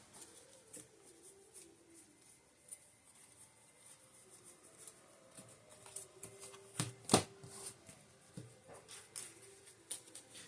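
Playing cards riffled and shuffled into a deck during a tabletop card game, a faint soft patter of card flicks building to a sharper burst near the middle, alone without talk.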